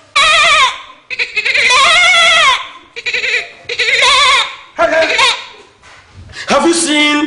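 A man imitates goat bleats with his voice, giving a string of loud, wavering, nasal bleats in bursts of one to two seconds, separated by short pauses, with laughter mixed in near the end.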